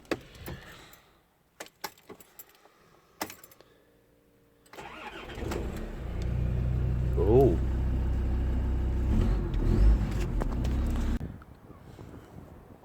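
A few clicks and clunks, then a Land Rover Discovery 2 TD5 diesel engine with straight-through exhaust and EGR delete cranks and fires into a loud, deep, rumbling idle for several seconds before cutting off.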